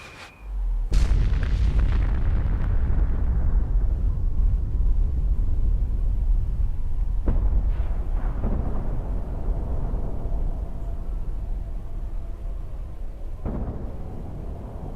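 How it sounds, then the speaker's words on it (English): Huge detonator-triggered explosion in the video game Fallout 4, a sudden heavy boom followed by a long, dense rumbling roar that rolls on without fading for over ten seconds, with a couple of sharper cracks within it. "She knew it probably wasn't too wise to look directly at the explosion"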